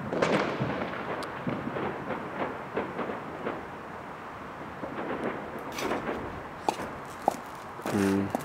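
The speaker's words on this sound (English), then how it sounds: "Oh, they had a really nice firework there." Fireworks burst at a distance over Vathorst on New Year's Eve 2012, with scattered pops and crackles and a few sharper bangs toward the end.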